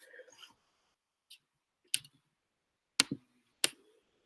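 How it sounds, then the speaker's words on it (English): A handful of crisp mouse clicks ring out one at a time as someone clicks through lecture slides, with long quiet gaps between them and a faint murmur at the start. "So now we'll be able to go through and we'll be able to click through everything."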